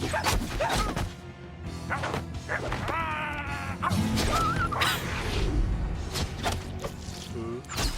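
A dog in the animated series Scissor Seven barks and yips repeatedly in short bursts, with a whimpering cry and a crash mixed in, set among cartoon sound effects and voices speaking.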